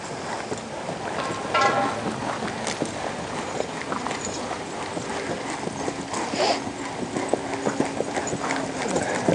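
A buckskin horse walks on a circle, its hooves clip-clopping in a steady, fairly close rhythm over a continuous outdoor background wash, with no talk.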